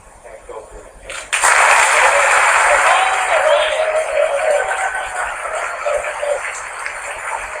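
An audience bursts into a sustained round of applause after a sudden start, dense clapping filling the room for several seconds at an event honouring a space communicator, slowly easing but continuing to the end.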